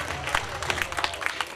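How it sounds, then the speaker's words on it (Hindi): An audience claps at a school celebration of Swami Vivekananda's birth anniversary, with a dense, fairly loud run of irregular hand claps and some overlapping voices. "तालियों से अभिवादन, तालियों में कमी नहीं होनी चाहिए।"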